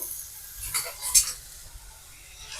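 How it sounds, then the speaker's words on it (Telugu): Ridge gourd pieces frying in hot oil in a pan, a soft sizzle broken by a couple of brief clinks and stirs of a utensil against the pan. "ప్యాన్లో ఆయిల్ వేసుకొని ఆ ఆయిల్ హీట్ అయిన తర్వాత ఈ బీరకాయ పీసెస్ వేసుకోవాలన్నమాట"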